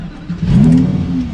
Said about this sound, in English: Fires right up. I love the fighter jet type engine start stop button.